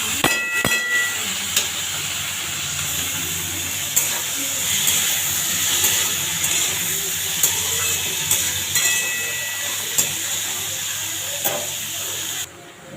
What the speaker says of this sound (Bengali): আমি সর্ষে ফোড়ন দিচ্ছি, একটু নুন দিয়েছি যাতে না ছিটোয়। এবার সবজিটা দিয়ে দিচ্ছি।